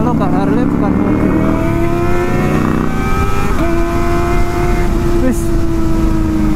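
Harley-Davidson motorcycle engine running loud and steady up close, with a rising rev at the start and another shift in pitch midway, engine note continuous throughout.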